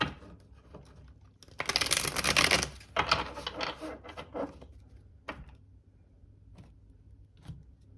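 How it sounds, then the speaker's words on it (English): A burst of papery riffling and flicking as tarot cards are shuffled close up, followed by a few scattered soft taps and quiet pauses. "Okay, we'll do one last shuffle."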